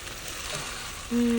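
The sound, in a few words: chicken adobo sizzling in a pan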